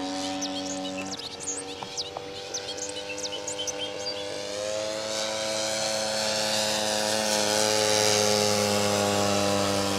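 A warbird propeller airplane flies in to land at Mid Hudson field, its droning engine with steady harmonic tones growing louder and rising in pitch as it nears, loud and close by the end.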